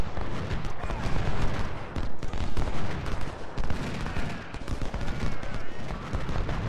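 Massed musket and artillery gunfire in the Civil War strategy game Ultimate General: Civil War, a dense continuous roar of overlapping shots and booms, loud and unbroken, with a voice speaking over it.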